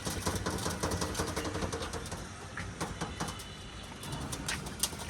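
Imported Aliwale running pigeons cooing softly amid rustling and fluttering in a loft, with steady background clatter and no talking.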